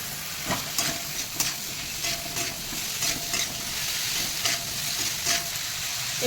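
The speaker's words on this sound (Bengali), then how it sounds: "এবার আমি আলু আর টমেটো আর বেগুনটা আমি এতে ফ্রাই করে নেবো" Potato, tomato and eggplant pieces frying in a pan for a Bengali prawn and greens chorchori sizzle up close, with frequent stirring scrapes and knocks of the spatula in a quick, uneven rhythm and no speech.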